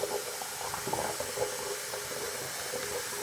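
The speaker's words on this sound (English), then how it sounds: "Water is going down like crazy." Water draining fast down a bathroom sink after steam cleaning, a steady close gurgling rush with bubbling bursts, continuous throughout and without talk.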